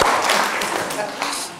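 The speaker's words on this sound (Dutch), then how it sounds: "Applaus." Dense, brief applause fills a lecture hall during a talk on psychedelics and personal development. The clapping is a continuous wash of noise that fades slightly toward the end.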